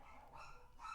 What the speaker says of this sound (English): Sorry about my dogs freaking out.